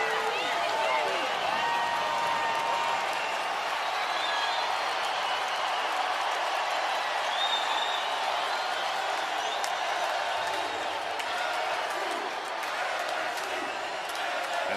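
Stadium crowd at a College World Series championship game, LSU fans in gold and purple: a loud, sustained roar of cheering and clapping fills the whole stretch, with a commentator's voice talking over it.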